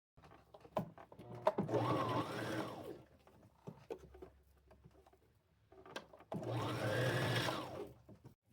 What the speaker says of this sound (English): And just do me a straight stitch all the way around.